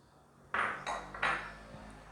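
Eggs whisked in a bowl for a tortilla: three quick, close clattering bursts of a whisk or fork striking and scraping the bowl, loud against a quiet kitchen.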